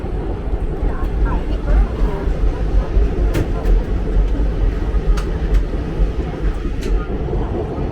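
A train pulls out of Daund railway station with a steady rolling rumble and rhythmic rail clacks, heard from on board, with occasional sharp metallic knocks.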